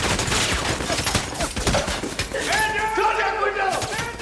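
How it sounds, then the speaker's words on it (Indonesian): Gunfire in a dramatized firefight between soldiers and terrorists: a dense fusillade of rapid shots rattling continuously, loud and close, with shouting voices in the mix. "langsung menghujani para tentara dengan tembakan peluru"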